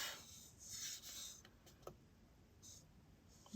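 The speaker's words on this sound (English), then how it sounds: "So I'm going to sand basically everywhere else" Fine-grit sandpaper rubs over a decoupage project with stamped tissue paper, giving soft, close rasping strokes in short bursts with quiet gaps between them.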